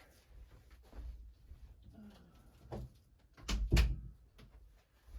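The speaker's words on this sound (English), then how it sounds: "I'm gonna go shut the door." A door closes in a quiet home, a few soft shuffling knocks leading to one solid thud near the end, with no voices.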